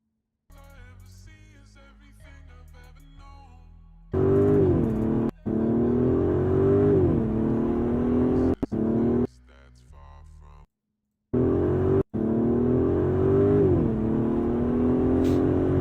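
An Aston Martin 4-liter V8 revs loudly in several long bursts, its pitch swelling and falling, with abrupt cutoffs, a brief silence, and a quieter idling stretch between bursts.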